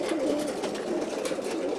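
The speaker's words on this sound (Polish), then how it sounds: "Także gołębie gotowe, napojone, klatki otworzone." Racing pigeons coo from open crates just before release at a pigeon race final, a soft continuous burble of many birds close by, steady and without speech.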